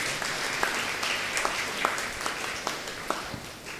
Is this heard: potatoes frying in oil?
no